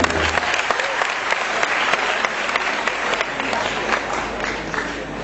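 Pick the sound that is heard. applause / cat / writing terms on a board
applause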